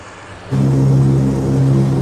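Steady, loud drone of a large multi-engine propeller bomber in flight, a deep harmonic engine roar that swells in after a quieter start and then holds constant, heard as if from inside the aircraft.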